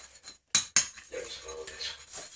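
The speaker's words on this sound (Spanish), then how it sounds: "Con la ayuda de tu cucharita, vamos a revolver." A small spoon stirs a mixture in a bowl, with two sharp metallic clinks against the bowl followed by softer scraping and tapping, quiet and close.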